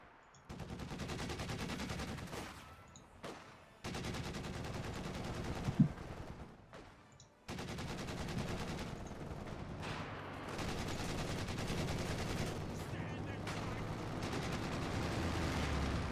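Rapid gunfire and machine-gun bursts hit an emplacement in Company of Heroes 2, a Russian faction battle, in dense loud stretches broken by short quiet gaps, with one sharp impact near the middle.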